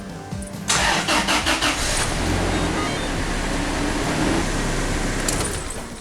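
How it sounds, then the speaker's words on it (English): The engine of a third-generation Toyota 4Runner cranks briefly, catches and settles into a steady idle, close and fairly loud, with a faint voice at the start. "Let's turn this one over, let it run for a couple of minutes"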